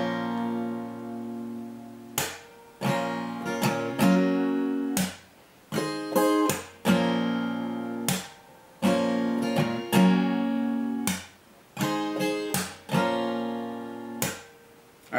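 Acoustic guitar strums the intro of a song, with sharp rhythmic strokes in repeating bursts, each chord ringing out before the next stroke, played solo and close with no talking.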